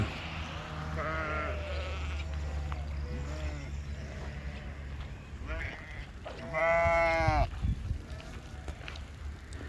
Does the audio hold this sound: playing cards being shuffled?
no